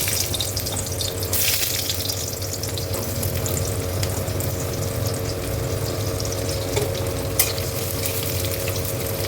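Sliced onions frying in hot oil with a torn dried red chili, a steady, close sizzle running throughout with faint stirring and clatter, no talking.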